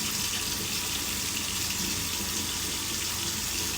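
Steady tap water runs and splashes in a sink while soap and clay mask are rinsed off skin, a continuous close hiss with no talking.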